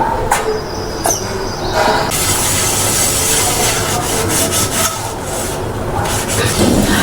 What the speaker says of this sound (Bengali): তো এবার আমি বাসনগুলো মেজে নেবো